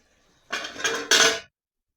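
The metal lid comes off a pot of simmering cauliflower gravy with three quick, close scraping clanks in just over a second, then silence.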